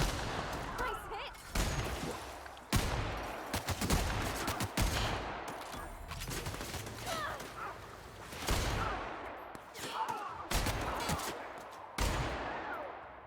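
Gunfire in the game The Outer Worlds: repeated sharp shots and short bursts cracking out at irregular intervals, loud and close, with a voice talking between them.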